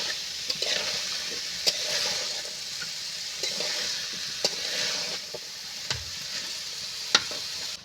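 Ghugni cooks with a constant loud hissing sizzle in a pan, punctuated every second or so by the knock and scrape of a spatula as it is stirred.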